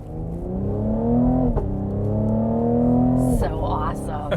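A 3-liter turbo Cadillac CT5-V pulls away and accelerates, its engine note rising in two loud, sustained climbs, each broken by a gear shift, with people talking over it inside the car.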